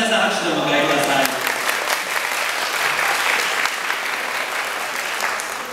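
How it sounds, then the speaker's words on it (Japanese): An audience at a memorial farewell gathering applauds to welcome a speaker, sustained close clapping from a crowd that continues steadily and tapers slightly at the end, with a voice speaking over the start. "皆さん、拍手でお迎えください。"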